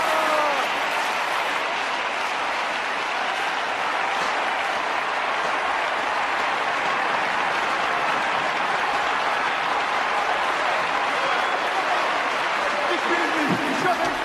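Sustained crowd applause fills the space from start to finish as a dense, even clatter of many hands, with voices mixed in underneath.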